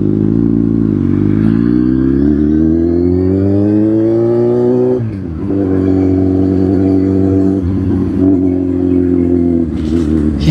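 A Kawasaki Z800 superbike engine revving on a ride to Lonavala, its pitch climbing smoothly through a long pull, dropping sharply at a gear change, then pulling again, loud and close.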